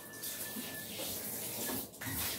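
Water from a shower runs in a continuous splashing rush while a puppy is bathed, with small clatters and drips over the stream.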